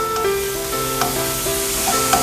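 Chopped onions sizzle and fry in a pan, a steady broadband hiss with a few soft clinks of stirring, close and continuous with no talking.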